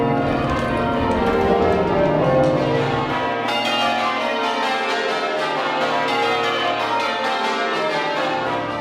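Church bells ringing loudly up close inside the belfry of Southwark Cathedral in London, a dense wash of overlapping peals and ringing overtones that continues throughout with no voices.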